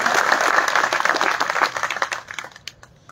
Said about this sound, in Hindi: जोरदार तालियों से इनका हौसला अफजाई करवाए।